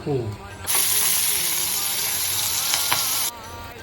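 Vegetables hitting hot oil in a kadhai, a sudden loud sizzle that holds steady for about three seconds, with a few stirring scrapes, then cuts off abruptly.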